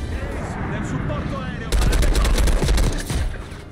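Gunfire and cannon shots from a Call of Duty: Black Ops 6 campaign firefight, a steady rumble of shooting that bursts into a loud, dense volley of rapid reports partway through, with voices talking underneath.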